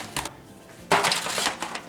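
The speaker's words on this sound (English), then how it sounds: "Get our pan out real quick" Thin aluminum baking pans rattle and clatter as one is pulled out, a brief clink followed by a louder crinkling scrape, close up in a quiet kitchen.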